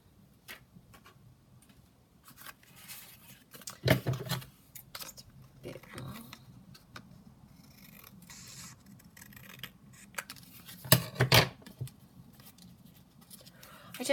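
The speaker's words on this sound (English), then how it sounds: "we'll just trim it down the side because it's not very straight, and then we'll just trim it here." Paper edges being trimmed with scissors for a junk journal, giving soft snipping and scratchy ticks, with two louder cutting bursts partway through and near the end, fairly close and quiet.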